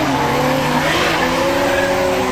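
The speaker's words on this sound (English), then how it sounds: "And you can hear Carl Ferrar really working that car." A drift car's engine howls loudly during pro-am drift qualifying, its pitch sliding as tires squeal continuously.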